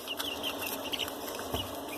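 Olandsk Dwarf chickens cluck and chatter continuously at close range, with a few brief sharper calls rising above a busy barnyard bed and no talking.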